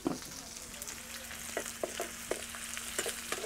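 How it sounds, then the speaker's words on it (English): Cumin seeds sizzle and crackle in hot oil over an open fire, a steady frying hiss broken by several sharp pops. "So just going and cook with the jeera with this. Not saute, fry."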